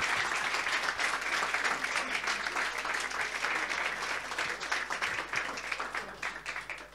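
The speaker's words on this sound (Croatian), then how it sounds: "Dame i gospodine, jedan ogroman aplauz, Kristijan Jelić." A big crowd at a stand-up comedy talent show finale applauds as a comedian is introduced, a thick, even roar of clapping that holds for several seconds and then gradually tapers off.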